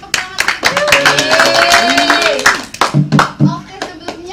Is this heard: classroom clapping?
yes